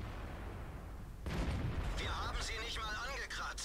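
A Leopard 1 tank cannon fires once in World of Tanks with a single loud, sudden blast partway through, followed by the rumble of gameplay while someone talks over it.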